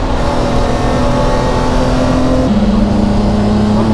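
A 1996 BMW E36 race car under way on track, its engine a loud, steady drone held near constant pitch before a sudden drop as it shifts gear, with no speech.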